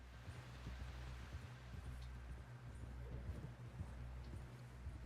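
Horse hooves clip-clop at a steady walking rhythm in Red Dead Redemption 2, soft and fairly distant over a low ambient rumble, with no speech.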